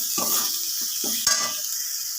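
Spice paste sizzles steadily in a pan for a kohlrabi dish, broken by a few distinct scraping stirs close by, with no voices.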